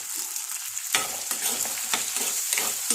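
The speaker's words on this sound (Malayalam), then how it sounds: "ഉപ്പും കൂടെ ഇട്ടിട്ട് നമുക്കത് മൂപ്പിച്ചെടുക്കാം." Curry leaves, chopped ingredients and salt frying together in a pan for a home-cooked fish dish: a steady close sizzle broken by repeated scraping stirs, with no talking.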